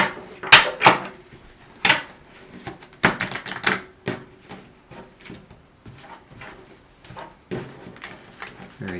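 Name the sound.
shuffling a deck of cards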